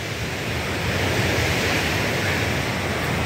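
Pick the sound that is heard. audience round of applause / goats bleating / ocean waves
ocean waves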